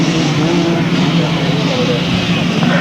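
Several 250cc grasstrack racing motorcycles from 1991 revving together at the start line, a loud, steady engine roar that holds for the whole stretch with a voice faintly underneath.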